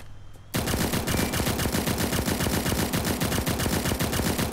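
Rapid automatic gunfire from the battle royale video game Cyber Hunter bursts in after a quiet moment and rattles on as a loud, dense, unbroken stream of close shots to the end.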